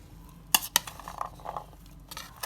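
Tomatoes and green masala for lobia are stirred in a pan, with a few sharp metallic clinks of a spoon against the pot and soft scraping and sizzling between them, close and fairly quiet.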